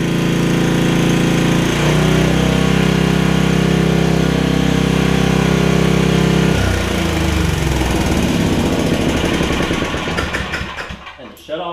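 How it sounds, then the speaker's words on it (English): A Powerback 5250 watt gas generator with a 10hp Tecumseh engine runs loud and steady nearby, its droning hum shifting pitch partway through before the engine note breaks up and winds down near the end. "This is not a quiet generator, I will say that much. But man, it runs good."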